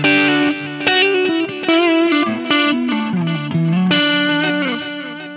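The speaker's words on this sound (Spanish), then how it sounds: "Y también tengo la opción de ponerle Ping Pong Delay." An electric guitar runs through a Line 6 Helix with a ping pong delay effect, playing a series of driven, sustained chords and notes. Each note echoes in repeats, loud and close, with no talk.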